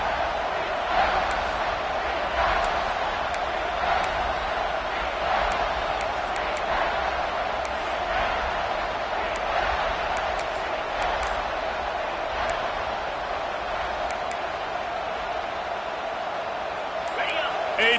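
A stadium crowd roars steadily at a Nebraska vs Clemson college football game, a constant dense wash of noise beneath a broadcaster's commentary.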